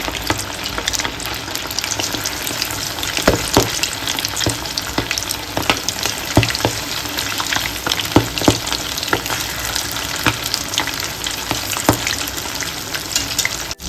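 Chicken liver frying over a low flame, giving a steady, dense sizzle close up with frequent crackles and pops throughout.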